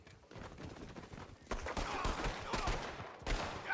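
Gunfire in the Western online game Red Dead Online: several sharp shots burst out in quick succession, moderately loud and mixed with background game noise.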